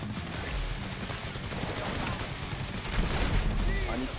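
Rapid bursts of gunfire from a gun in GTA V, a steady clatter of overlapping shots at moderate distance, continuous across the short stretch and growing a little louder near the end.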